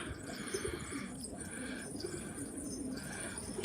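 Pigeons coo repeatedly in soft, low murmurs against a steady background hum, with a few faint chirps mixed in.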